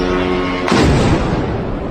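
A drone exploding near Usovo village outside Moscow: a sudden heavy blast bursts out after a low hum, then a rumbling decay trails off.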